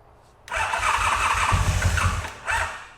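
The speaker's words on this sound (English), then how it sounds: "Let's see what happens when we push the starter button." A starter cranks the ex-fastest motorcycle in the world, a loud close whirring and squealing crank lasting about two seconds, with a low chugging as the engine tries to catch and one more short burst at the end.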